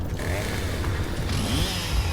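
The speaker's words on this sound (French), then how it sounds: "on a vraiment une tronçonneuse au fusil" Revving chainsaw bayonet on a rifle in the video game Gears of War Reloaded, a buzzing motor whine with a rising pitch sweep, loud and continuous across the short clip under game noise.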